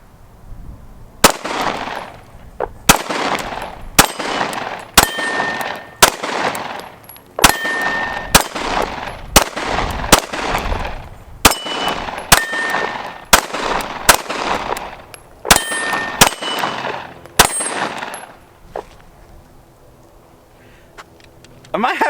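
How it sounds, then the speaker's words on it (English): Glock pistol fire rings out against steel targets outdoors, a long series of sharp, evenly spaced shots with metallic pings, loud and close, tapering off near the end. "I just want to shoot the gun."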